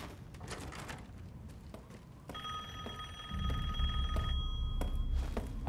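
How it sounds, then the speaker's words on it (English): An in-game telephone rings inside a dodgy shoe shop in Resident Evil Village, its electronic bell tones sounding in repeated bursts over quiet ambience, with a deeper rumble swelling in toward the end. "Also, there is a phone ringing."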